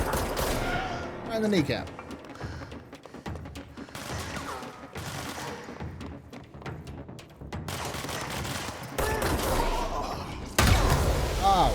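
Gunfire in the video game Control, bursts of shots and crashing impacts repeating across the clip at a busy, uneven rhythm, loud and close, with a voice speaking briefly over the action.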